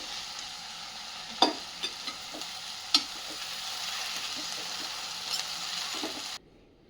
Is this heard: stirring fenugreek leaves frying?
yes